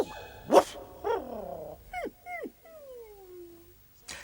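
A cartoon dog, Dog Detective, gives a short bark followed by whining yips and a long falling whimper, then a final sharp bark, all close and clear with no talking.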